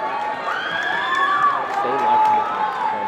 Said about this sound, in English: And this crowd is going absolutely crazy, Dominic.